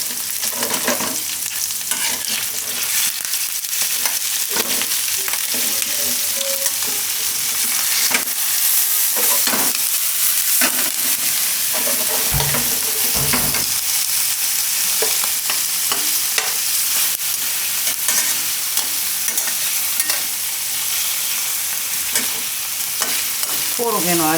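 Sliced carrot rounds stirred and roasted in a pan, with a steady close sizzle and frequent scraping strokes of the spoon running continuously throughout, no talking.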